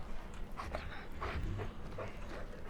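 A dog or wolf companion in the caveman video game Far Cry Primal, panting and whimpering faintly in a short run of soft whines and breaths.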